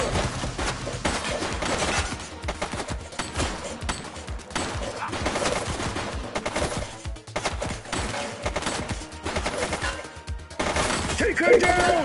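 A suspect's gunshots in The Precinct crackle in rapid, continuous volleys, close and busy over the whole stretch, mixed with shouting voices and general action noise.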